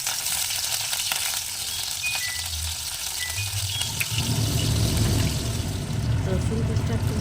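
Chopped garlic frying in refined oil in a wok on a gas stove, a dense crackling sizzle that grows fuller and louder partway through, with a voice talking over it.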